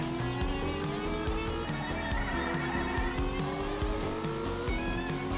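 A race car in a racing video game drift stage slides sideways with a continuous screeching tire squeal over a loud revving engine whose pitch climbs and drops through repeated gear shifts.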